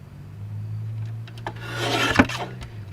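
A paper trimmer slices half an inch off a sheet of craft paper, a steady scraping rasp of the blade drawing along the cut, building to a sharp close near the end, heard alone over a low steady hum.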